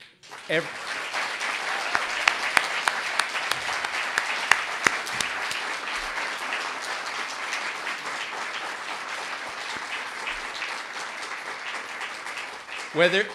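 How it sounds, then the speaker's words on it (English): Arts awards audience gives the finalists a long round of applause, a broad, even roar of many hands clapping for over ten seconds in a large room, rising at the start and tapering near the end. "I want to, first of all, offer a round of applause to the finalists"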